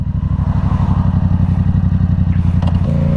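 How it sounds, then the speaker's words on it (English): A Yamaha R7 motorcycle with an aftermarket exhaust system idles loud and close, its deep pulsing burble steady and rhythmic before a short rev change near the end. "I think the tone that you get with this exhaust sounds really good and really clean, and it's loud, but without being obnoxious."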